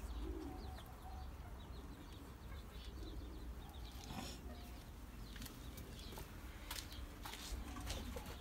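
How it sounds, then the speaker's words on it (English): Soft cooing of pigeons or doves in a backyard enclosure, with scattered chirps and a faint flutter of wings, quiet and somewhat distant over low ambient hum. "I got birds in there as well."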